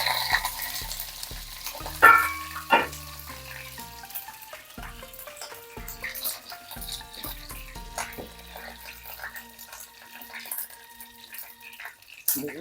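Two sprigs of curry leaves drop into hot oil with cut chillies for a sambar tempering just after the gas is switched off, giving a sharp sizzle burst that fades to softer crackling under steady background music.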